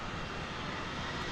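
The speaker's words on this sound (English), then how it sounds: "We're about to see an Airbus A320 American flight" Airbus A320 American Airlines jet at Dallas/Fort Worth airport, a steady broadband engine roar held evenly throughout at moderate distance, with no talk.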